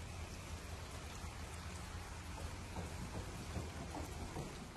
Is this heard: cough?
no